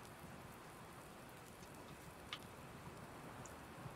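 Rain falls steadily in Farming Simulator 19, a soft, continuous hiss of drops with a single sharp tap midway and no one talking.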